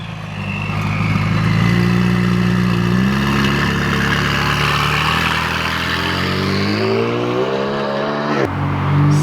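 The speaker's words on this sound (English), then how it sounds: "For the viewers, a couple last revs." A McLaren 570S sports car engine revs a couple of times close by. Its loud tone climbs and falls, then settles toward idle before cutting off sharply near the end.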